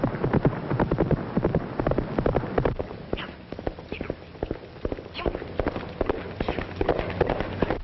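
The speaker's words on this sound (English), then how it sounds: "Oh, man, I sure would like to ride that horse." A horse runs with rapid, sharp hoofbeats in a quick, irregular rhythm, fairly loud, with people talking and shouting over it, in a vintage Hollywood film.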